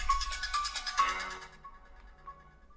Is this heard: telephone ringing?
yes